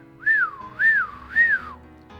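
A person whistles three rising and falling swooping notes in an even rhythm, clear and close, with nothing else audible beneath them.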